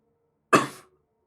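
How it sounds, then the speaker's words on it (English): A single short, sharp cough, close and fairly loud, with silence before and after. "I had a bit of a cough then again."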